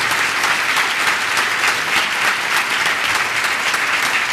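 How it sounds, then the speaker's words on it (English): Loud, dense applause from a dinner audience at a graduation dinner, with many hands clapping together in a continuous close roar. "Could we give them a round of applause?"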